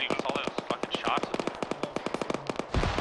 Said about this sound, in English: Kenny, what's all those fucking shots?